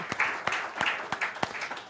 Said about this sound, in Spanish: vamos a darle un aplauso a Willy